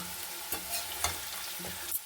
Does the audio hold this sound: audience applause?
no